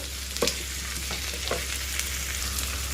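Masala khichdi being stirred in a pan, with a steady low sizzle and a few soft scraping strokes from a spoon at close range; no voices.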